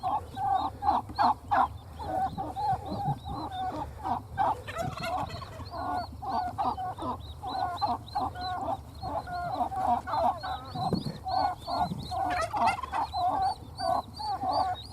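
A flock of turkeys being herded gobble repeatedly in overlapping bursts, a busy, continuous chorus of calls close by with faint clucking mixed in.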